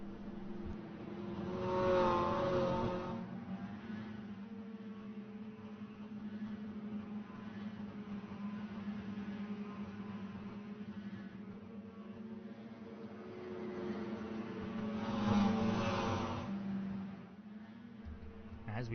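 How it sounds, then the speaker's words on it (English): A pack of dirt rookie mini stock race cars idles and rumbles around Slinger Speedway behind a pace car on warm-up laps, a steady distant engine drone that swells twice, with a commentator talking over it. "As the pace car pulls away for the first of 2 warm-up laps here."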